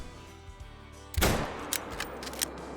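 A single rifle shot cracks out from a hunting rifle fitted with an Argus scope in the hunting game Call of the Wild, a sharp loud report that tails into a rolling echo, followed by a few faint distant thumps.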